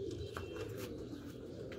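Sialkoti pigeons coo in a low, steady murmur, a pure breed kept by a breeder in Model Town, Sialkot, with continuous soft throaty calls close by and no voices.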